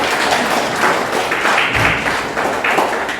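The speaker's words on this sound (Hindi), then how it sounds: "एक बार जोरदार तालियां बजाओ।" Audience clapping at a Vishwakarma Day celebration in Faridabad, a dense, steady patter of many hands sustained throughout at moderate loudness, with no talk over it.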